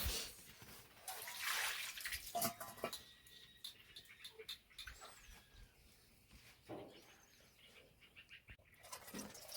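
Wild greens being rinsed in water by hand, soft intermittent splashes and trickles, quiet and close, with small clicks and pauses between washes.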